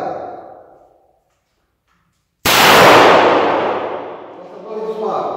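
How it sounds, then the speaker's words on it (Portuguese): A single loud, close .38 revolver shot fired with reloaded ammunition bursts out after a stretch of silence, its sharp crack ringing and decaying over several seconds, with a man's speech before it. "Vou fazer o primeiro disparo com a munição recarregada."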